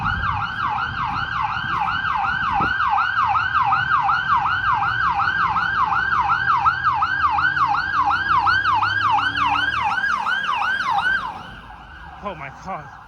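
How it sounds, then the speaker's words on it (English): An ambulance siren on a Toronto street near Danforth Avenue wails in a fast, repeating up-and-down pattern for several seconds, loud and steady, then fades as traffic rumbles beneath. "And it's an ambulance."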